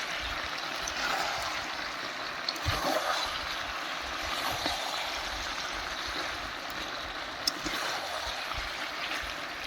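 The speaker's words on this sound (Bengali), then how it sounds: "এই যে জলটা দিয়ে দিলাম।" Water poured into a pan of Bengali chicken curry makes a faint, steady trickling wash that continues without a break, with no talking.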